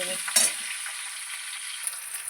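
Water poured into a hot frying pan with spices bursts into a loud, close hiss at first, then settles into a softer, steady sizzle.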